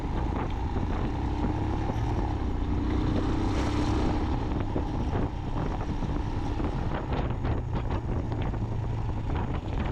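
Motorbike ridden on an open road with a GoPro mounted on it, steady engine drone under heavy buffeting wind noise throughout, close and loud, no talk.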